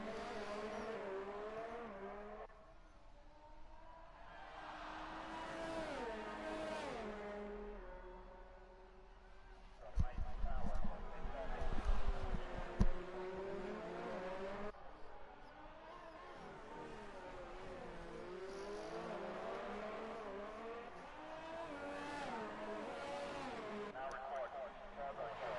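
An F1 race car in a video game on a flying lap, its engine note whining and rising and falling through gear changes at moderate distance, with a commentator talking over it almost throughout.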